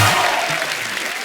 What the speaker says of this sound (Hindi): तबला के लिए जोरदार तालियां हो जाए।